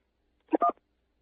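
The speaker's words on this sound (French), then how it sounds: "appuyez sur la touche 1" A telephone keypad tone from pressing key 1, one short clean dual-pitched beep in near silence, just under half a second long.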